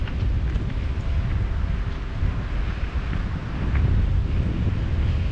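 Steady wind buffets the microphone beside Lac de Cavayère, a low, continuous roar that swells slightly near the end, with no voices.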